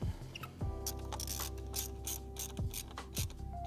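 A hose clamp being tightened onto an intake inlet pipe while fitting a twin cone intake on a BMW N54 engine, heard as a close, quiet run of rapid ratchet clicks with a few pauses and repositioning clunks, no talk.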